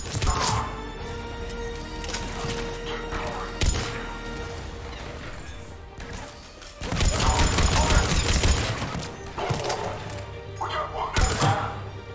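Gunfire in Mass Effect 3 with crashing impacts: scattered thuds and cracks, then a heavy, loud barrage in the second half and a final burst, with people speaking over parts of it.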